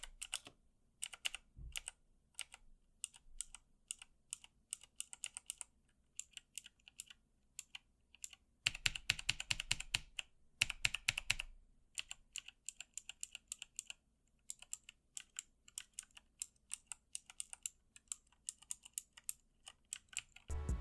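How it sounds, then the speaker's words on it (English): Clicky typing on a Razer BlackWidow Elite mechanical keyboard with Razer green switches, a steady stream of sharp key clicks with short pauses and a denser burst midway, close up, with no voices. "Here's a sound test for my Razer green switches if you would like to hear that."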